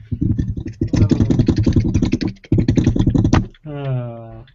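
A voice mimics typing on a computer keyboard with rapid, clattering vocal clicks and buzzes in quick bursts, then ends on a drawn-out hummed tone.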